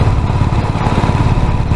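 A motorcycle riding up the curving Agumbe Ghat road on a solo ride from Bangalore, its engine a steady, close, loud drone throughout.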